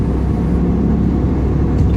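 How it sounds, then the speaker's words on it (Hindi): Steady low road rumble of car traffic heard from inside a vehicle driving through Lahore on an evening working day, a continuous close engine and tyre drone with no talk. "ट्रैफिक को एंजॉय कीजिए।"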